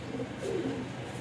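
A large pigeon gives a brief, soft coo, a low murmur lasting about a second against faint background noise.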